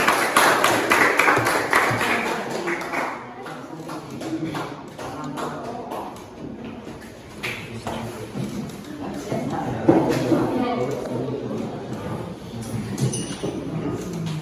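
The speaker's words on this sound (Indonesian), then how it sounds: "Kita beri tepuk tangan kelompok 1." Junior high school students applauding a group presentation in a classroom, with a dense, sustained patter of clapping from many hands that continues for the whole stretch.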